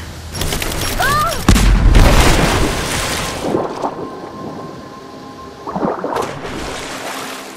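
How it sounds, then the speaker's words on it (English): Grenade explosion in Rise of the Tomb Raider, a deep booming blast with rumbling debris that swells and lingers, followed by a second burst of rumble and crackle as the scene settles. "Throwing a grenade."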